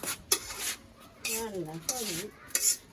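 A mother cooking lunch clinks and scrapes utensils against pots in a home kitchen, a few sharp metallic taps and stirs, while someone speaks briefly between them.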